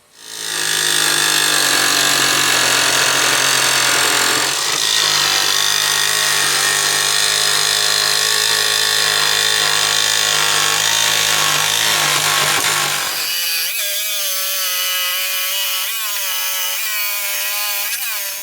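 A loud, steady grinding whine from a sanding pad on a 1/8 inch metal plate runs for most of the stretch, then shifts to a rougher, wavering tone near the end.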